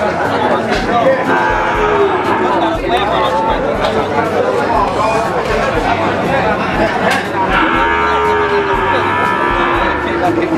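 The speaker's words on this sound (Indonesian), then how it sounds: "Ini ada sapi pekot." Calves mooing at a cattle market in Pati, Indonesia, several drawn-out calls rising over a steady crowd hubbub with people chattering throughout.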